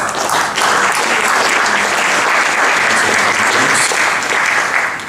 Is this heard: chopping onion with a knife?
no